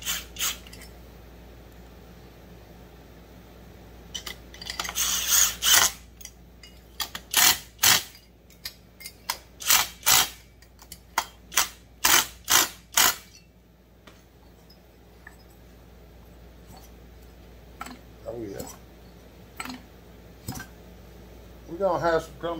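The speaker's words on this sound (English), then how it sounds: "Get all the bolts in there before I get too crazy on it." Bolts are tightened on a Shindaiwa 757C chainsaw with a hand tool, giving rapid ratcheting clicks in quick bursts over a quiet background, with sparse softer taps and rubs between them.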